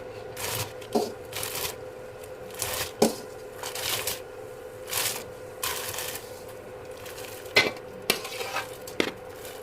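A spoon stirs sago in a pot of boiling salted water, giving intermittent soft scrapes and clinks against the pot over a low bubbling hiss.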